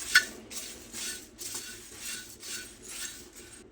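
Puffed rice (mamra) stirred in a pan over a low gas flame, a spoon scraping and rustling the crisping grains in steady repeated strokes, close and fairly soft, with no voices.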